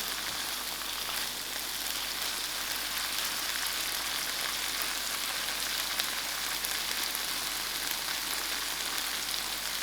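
Tuna sauce with sprinkled paprika sizzling in a pan as it is mixed, a steady hissing fry with no pauses and no voices.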